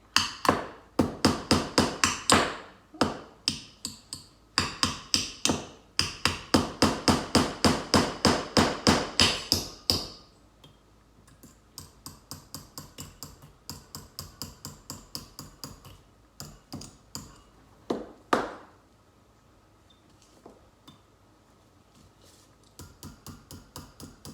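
Close, loud hammering of small nails into wood for string art, dense runs of quick taps for about ten seconds, then scattered, sparser strikes with pauses and one brief burst later on.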